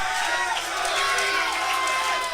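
A wrestling crowd at a GCW tag match roaring and cheering in response to Christian Blake, a steady loud wash of voices filling the arena.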